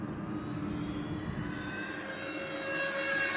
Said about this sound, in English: Let's do a low pass here.